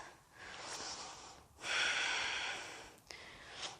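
Slow, deep breaths during a yoga high crescent lunge hold, close and audible, with long airy inhales and exhales separated by short pauses, no talking.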